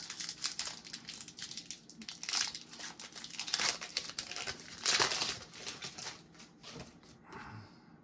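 Continuous crinkling and tearing of a Pokémon TCG Silver Tempest booster pack's foil wrapper, close and busy for several seconds, with rustling bursts easing off at the end.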